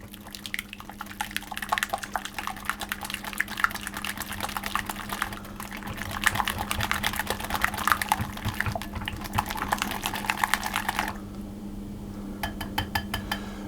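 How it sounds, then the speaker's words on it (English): Egg yolks and almond extract beaten with a whisk in a bowl for cake batter, a fast, steady ticking and clicking of wire against the bowl, close and fairly quiet over a low hum, pausing briefly before resuming. "I'm going to take the egg yolks and the almond extract, and I'm just going to whisk those together to break them up"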